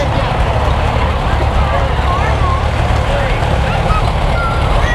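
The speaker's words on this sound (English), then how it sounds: "here we got another tractor coming up" A vintage tractor drives up at a small-town parade, its steady low engine rumble close and continuous, with the crowd murmuring and a voice talking over it.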